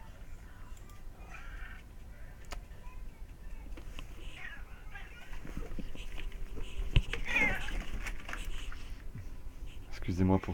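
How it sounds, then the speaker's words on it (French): A house cat meows indoors, its brief calls rising around the middle of the clip over a steady low background hum with some faint voices. "Désolé, mon chat qui fait n'importe quoi."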